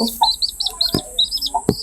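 A desi hen gives low, short clucks close by while her newly hatched chick answers with a string of high, thin peeps between them.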